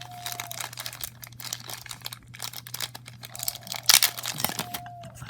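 Plastic packaging around a Breyer model horse crinkles and rustles up close as it is unwrapped, in irregular crackling bursts with a sharper tearing crunch near the end, set over a faint steady hum.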